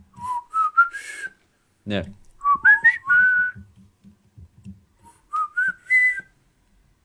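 A person whistles a short tune in clear, bright phrases separated by pauses, with a brief word spoken between them.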